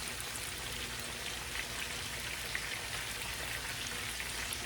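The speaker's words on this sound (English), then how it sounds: "We're just gonna slide that right down in the pan and let them brown up." Battered, floured squash frying in a pan of hot oil, a steady close sizzle with a fine, dense crackle and no voices.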